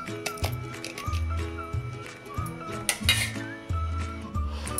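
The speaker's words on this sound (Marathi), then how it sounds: "हे सुरीनं किंवा चमच्यानं असं बी काढून टाका" A knife or spoon scrapes seeds out of a guava, giving repeated clinking and scraping against a dish or pan in an irregular rhythm, close and fairly clear, with no talk.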